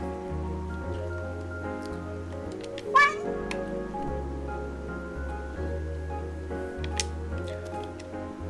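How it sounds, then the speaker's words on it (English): A single clear cat meow in the PC video game Calico rises briefly over calm looping background music, followed by faint game sounds. "What a funny cat."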